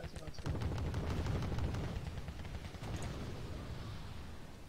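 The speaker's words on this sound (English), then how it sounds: "I've got a shit load of artillery." Artillery fire in the war strategy game Wargame: Red Dragon, a loud burst of rapid booming shots that rumbles and decays into a continuous barrage, with a voice faintly underneath.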